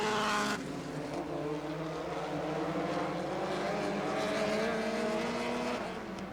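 Midget race cars circling Rockford Speedway during a heat race, a steady blended engine drone from several cars heard from a distance, moderately quiet, with a louder passing burst at the very start.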